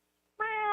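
A farm cat gives a single clear meow, close and fairly loud, starting abruptly and holding its tone to the end with no other sound around it.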